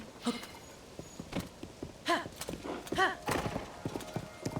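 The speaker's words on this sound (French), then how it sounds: "Mon cheval." Hooves clip-clop at a walking pace amid game ambience in Zelda: Tears of the Kingdom, with a horse whinnying briefly; a person speaks in short bursts over the scene.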